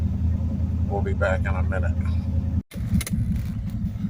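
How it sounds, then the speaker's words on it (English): A car engine idles with a steady low rumble while someone speaks briefly over it, then a short cut leads to a rougher, pulsing engine note; the car has a bogging problem linked to its emissions control solenoid. "So I'm going to go out and run the car and see if that was what was causing it."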